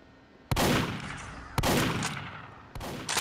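Three loud gunshots in a horror video game, spaced about a second apart, each a sharp crack followed by a long echoing decay.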